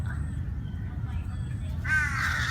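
Crows caw loudly, a harsh call rising near the end over a rumbling outdoor background, with crocodiles nearby in a forest.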